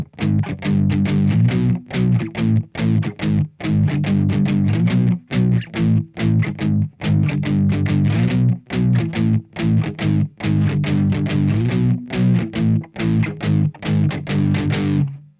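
Distorted electric guitar plays an intro riff, loud and close, with chugging palm-muted chords broken by short, rhythmic stops and no voices.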